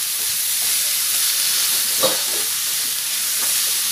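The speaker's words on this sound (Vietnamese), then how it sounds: "Các bạn xào cho cái rau của mình nó chín nha" Vegetables stir-frying for vegetarian rice noodles, a steady close sizzle and hiss running throughout with a few soft stirring clinks, no talking.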